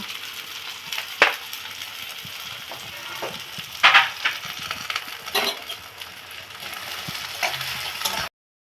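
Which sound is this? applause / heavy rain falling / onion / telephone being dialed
onion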